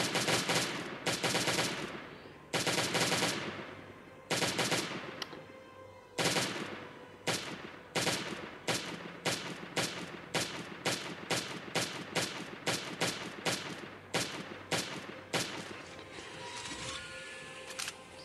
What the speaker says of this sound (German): das ist ein normales Geschütz